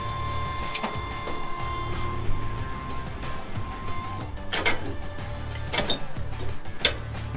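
Hydraulic trailer of an RC truck operating, a faint whirring motor hum with small mechanical ticks and clicks, close by and without talk.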